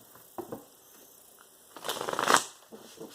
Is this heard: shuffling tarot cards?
yes